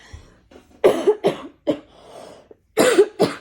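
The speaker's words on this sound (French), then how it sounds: "je tousse beaucoup là" Several close, harsh coughs come in two bursts, a pair at first and another pair after a short pause.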